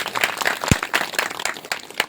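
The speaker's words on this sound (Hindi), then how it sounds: "एक बार उनके लिए जोरदार ताली बजा करते हुए" Audience applause from a gathering at a spiritual discourse, heard as a short burst of scattered, fairly close claps with an uneven rhythm.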